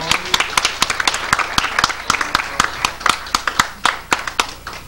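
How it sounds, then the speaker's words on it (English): An audience at a live stage magic show claps in a steady, sharp rhythm of distinct hand claps, fairly close and loud, while a voice speaks briefly underneath. "Let's give her a nice round of applause."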